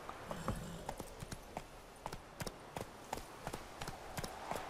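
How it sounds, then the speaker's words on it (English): Horse hooves clip-clop in a steady trotting rhythm during riding in the video game The Witcher 3, quiet and even with no voices over them. "So, wir reiten wieder zurück ins Dörfchen nach Weißgarten."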